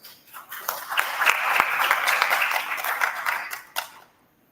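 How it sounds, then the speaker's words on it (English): Audience applause at the close of an open-source breakout session at IIT Kanpur, a steady wash of many hands clapping that swells and holds for about four seconds before fading out. "Let's give him another round of applause."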